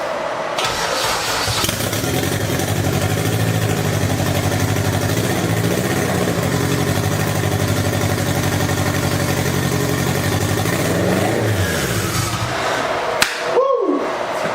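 A Toyota MR2 engine being built for drag racing fires up on an old turbo map and settles into a steady, loud idle, then cuts off near the end.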